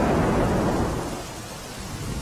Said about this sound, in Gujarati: પોરબંદર શહેર અને જિલ્લાના આ દ્રશ્યો સામે આવ્યા છે કે જ્યાં ધોધમાર વરસાદ વરસ્યો હતો